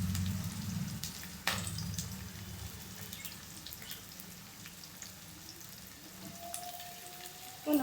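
Vegetables frying in a pan for veg noodles, a soft steady sizzle with faint water-like crackle, one sharp knock partway through and a thin tone near the end, no voices.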